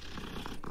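A soft, rhythmic cat purr rumbles briefly and close, a low fluttering vibration with no other sounds.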